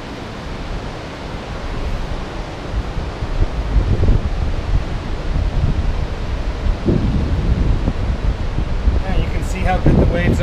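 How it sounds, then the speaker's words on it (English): Ocean surf at a beach in Baja Mexico, a steady broadband wash with swells building and breaking around the middle, heard up close and fairly loud against a little wind noise. "how good the waves are here"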